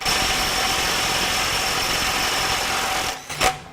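A DeWalt 20V XR mid torque impact wrench, DCF891, on a 4 amp hour battery, runs with a loud, steady high-pitched whine close up, cutting off near the end with a brief final burst.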